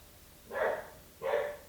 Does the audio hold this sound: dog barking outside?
yes